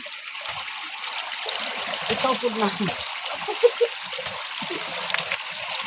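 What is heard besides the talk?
water draining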